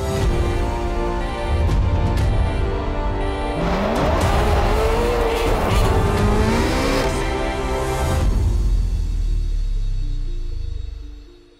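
A Ferrari 430 Scuderia V8 from 2007–2009, the road version of the 430 Challenge, revs loudly and accelerates through gears with a sharp rising engine note, then fades as it pulls away.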